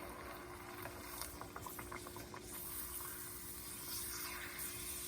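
Shrimp chips fry in hot oil, puffing from small discs to full size, with a soft, continuous bubbling sizzle and scattered light crackles, heard close up without talk.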